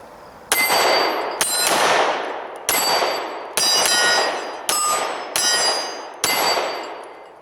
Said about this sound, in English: we're shooting right here. This is the Glock 17.